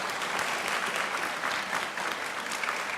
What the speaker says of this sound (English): One more round of applause for Tiffany,